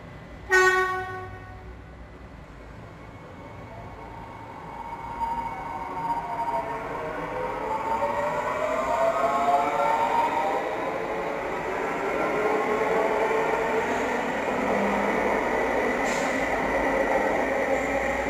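Metro train running past, a short horn toot at the start followed by a long, steady rumble and rising and falling whine that stays loud and close throughout.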